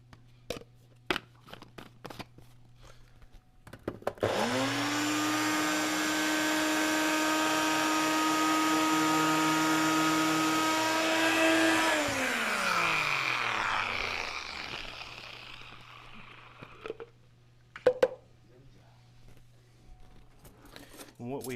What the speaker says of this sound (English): We'll give it a little shot in the blender.